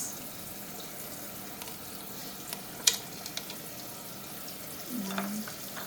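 Onion frying in a pan for fish stew gives a quiet, steady sizzle, broken by a sharp utensil clink midway and a few light knocks near the end.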